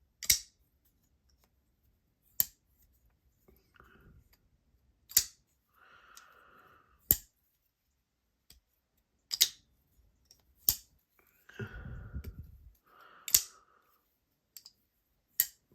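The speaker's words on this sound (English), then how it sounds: "So it has really good clicks and clacks, thwacks, and you know, all the good stuff when it comes to sound." A folding knife with a flipper action snaps open and shut in a series of sharp, close clicks and clacks spaced a second or two apart, with faint handling rustles between them.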